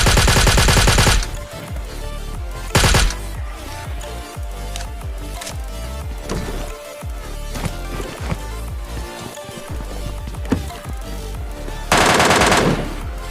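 Rapid automatic gunfire from a PUBG Lite match, loud bursts at the start and near the end with scattered shots, footsteps and game effects between, no one talking.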